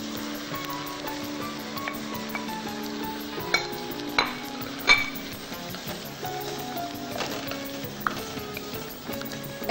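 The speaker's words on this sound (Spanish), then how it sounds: "Seguimos rehogando. Después los tomates." Tomatoes and vegetables sauté in a pan for a pheasant-thigh and rice dish, giving a steady close sizzle broken by occasional sharp clinks of a utensil stirring against the pan.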